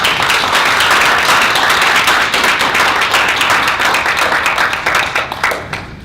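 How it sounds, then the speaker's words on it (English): Loud, dense applause from an audience thanking panelists at a lunch discussion, steady clapping from many hands that begins to thin and fade toward the end. "let's please give them a round of applause"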